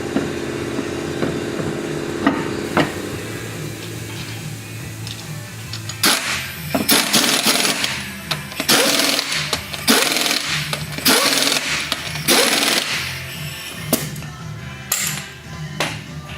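A wheel goes back onto a 2001 Oldsmobile Intrigue after a front strut assembly replacement, with a run of sharp metallic clanks and rattles and bursts of tool noise over a steady background hum.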